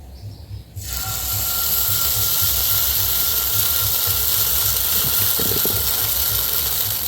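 Thin batter sizzling in a lightly oiled frying pan, a loud steady hiss that starts abruptly after a brief quiet moment and holds evenly, with a few faint clinks near the end.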